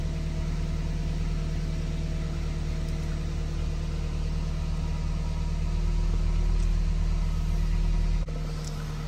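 A 2005 Toyota MR2 Spyder engine idles steadily at about 1200 RPM with a low, constant hum and faint whine, heard close up with no talking.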